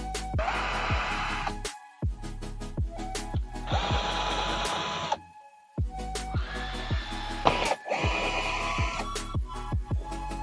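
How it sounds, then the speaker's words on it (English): A power drill unscrews hinges from the lid of a DIY cold plunge tub, whining in repeated bursts of a few seconds each, separated by brief pauses and small clicks, close and fairly loud. "Unscrew all the hinges fully from the lid."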